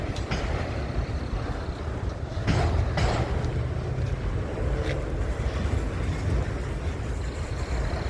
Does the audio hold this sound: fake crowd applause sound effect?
no